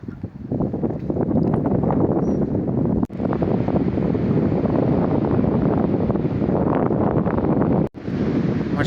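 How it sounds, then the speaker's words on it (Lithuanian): Strong wind gusts across a bridge in Andorra in the Pyrenees, a loud continuous roaring buffet on the microphone with two brief dropouts, close and alone. "vėjas pučia labai, tai jau darosi šalta."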